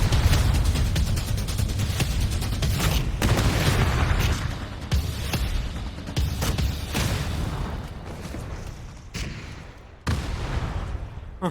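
Repeated heavy booms and blasts from anti-tank weapons in the battle game PUBG, a dense barrage of loud explosions and bursts that eases off toward the end, with a few sharp final hits.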